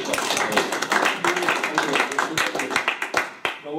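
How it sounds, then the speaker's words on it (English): Brisk applause from a workshop audience in a lean manufacturing session, a run of close, sharp claps continuing with a few voices mixed in. "Big round of applause."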